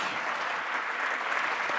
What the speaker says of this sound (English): How about another round of applause for Aung San Suu Kyi?